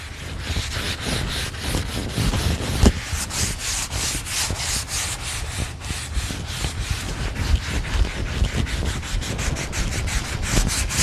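Sandpaper of 150 grit rubs back and forth over a wooden staircase, a steady, close, continuous abrasive scratching with rhythmic strokes and no talking.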